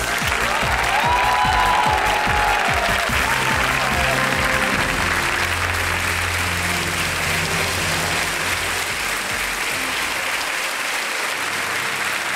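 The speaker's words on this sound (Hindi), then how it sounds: "तालियां बज जाएं इनके लिए प्लीज" A studio audience on the Kaun Banega Crorepati quiz show applauds a contestant's husband: a broad, continuous wash of clapping from a large crowd, steady and loud throughout, with faint tones beneath.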